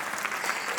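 An audience at a Hindi stage play claps for the cast in a brief, dense burst of steady applause heard at moderate distance.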